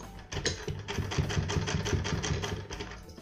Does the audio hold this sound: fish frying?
no